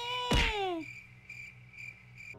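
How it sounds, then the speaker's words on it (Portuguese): Crickets chirping in a horror video game, a steady series of short high pulses repeating over a low background hum after a brief loud sweep at the start. "Tem grilo cantando."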